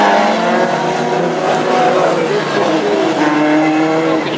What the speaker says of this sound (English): Oh, we have a big crash!